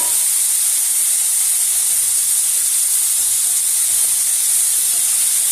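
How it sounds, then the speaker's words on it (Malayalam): Mushrooms fry in hot oil in a kadai, giving a steady, loud hiss and sizzle that runs evenly throughout with no talking. "കൂണൊന്ന് ഫ്രൈ ആയി പൊരിച്ചെടുക്കുന്നുണ്ട്."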